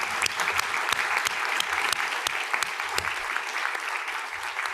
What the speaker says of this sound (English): I want to start by a round of applause, just thanking Scotland for hosting COP26.